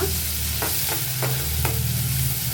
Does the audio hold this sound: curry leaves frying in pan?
yes